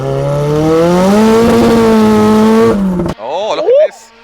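A 300 BHP Mazda MX5 drift car revs loud and close, its engine note climbing and holding strong before cutting off abruptly, followed by a brief rising and falling engine burst.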